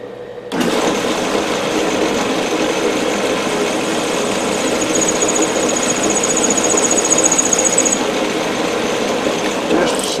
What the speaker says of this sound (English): I parting tool and start parting it off